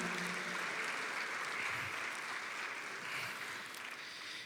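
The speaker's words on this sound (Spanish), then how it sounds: "un aplauso para ustedes" A church congregation gives a round of applause, dense and even clapping from a room full of people, moderately distant and fading slightly near the end.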